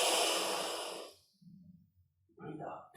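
A person breathes out through the nostrils in a long, strong exhale that fades away, followed by soft breathy sounds and a brief voice.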